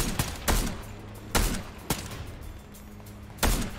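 Gunfire from the video game Fortnite: several sharp, separate shots ring out at uneven intervals with short gaps of quiet between them. The shots sound moderately close, with no one talking.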